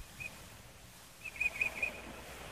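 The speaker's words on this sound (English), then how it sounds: "I want to listen to the Mockingbird. From a bird sanctuary." Mockingbird singing at a bird sanctuary, a few thin, faint whistled notes over a hissy background, one early and a short run of repeated notes in the latter half.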